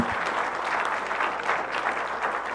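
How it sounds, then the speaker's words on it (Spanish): Audience at a public-safety panel at a Mexican university claps steadily and loudly, a dense sustained applause with no break. "recibámosla con un fuerte aplauso"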